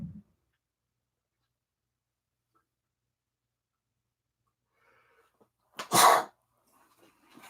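A single loud sneeze bursts out after several seconds of near silence, with a faint rustle just before it and soft shuffling afterward.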